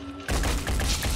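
A sudden loud burst of rapid gunfire from the video game Phoenix Point cuts in after a brief quiet moment, dense and close, rattling on to the end.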